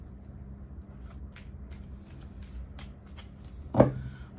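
Tarot cards being shuffled close up, a series of soft riffling ticks and flutters ending in a sharper tap as the deck is squared, quiet and without talk.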